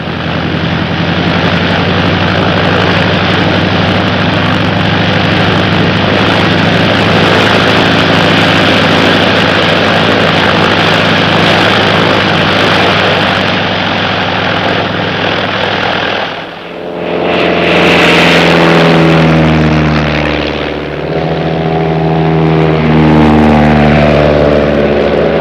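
Droning propeller engines of Civil Air Patrol search planes flying overhead, a loud steady low hum that holds for most of the stretch, dips briefly, then swells again as an aircraft passes close.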